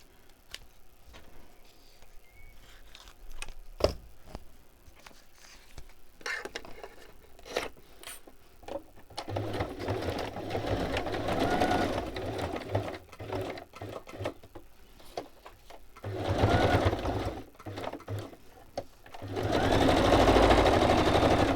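A sewing machine stitches in bursts, a fast steady whir that starts and stops several times, growing louder and longer toward the end, with occasional ticks and clicks in the quieter gaps.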